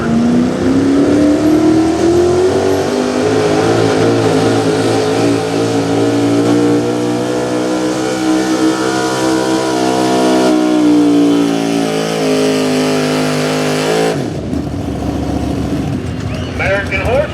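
A small-block high-output 4x4 pulling truck roars loud and close at a truck-pulling event, its engine note climbing and holding steady for about fourteen seconds before cutting off, then crowd and announcer noise follow.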